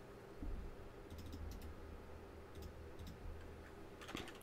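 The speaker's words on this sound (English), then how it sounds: "Typing." Light, quiet keystrokes on a computer keyboard while entering text in truck-modding software, scattered clicks in short clusters with pauses between them over a steady low hum.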